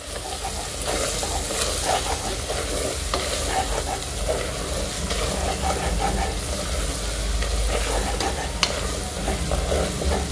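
Biryani masala being mixed in a hot pan for chicken biryani, a continuous loud sizzle with a dense scraping stir running throughout, close up, with no break.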